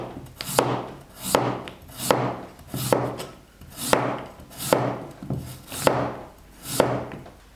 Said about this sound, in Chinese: 切片。